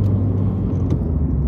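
A manual-transmission car driven during a driving lesson, its engine giving a steady close rumble and whir from inside the cabin, with no talk.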